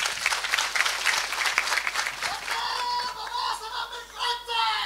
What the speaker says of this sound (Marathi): त्या बाबासाहेबांसाठी एकदा टाळ्या वाजवा